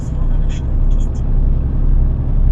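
A truck loaded with a lathe rolls along a road, heard as a steady, close low rumble of engine and tyres that holds evenly throughout without any clear revving.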